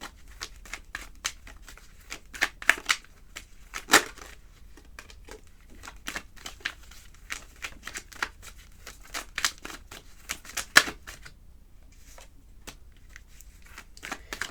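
Tarot cards are shuffled in repeated quick riffles and slaps, a steady run of crisp papery bursts up close with sharper snaps around the middle and near the end.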